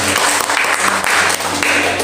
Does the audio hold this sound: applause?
yes